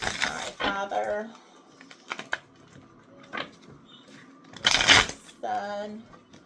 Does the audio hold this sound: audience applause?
no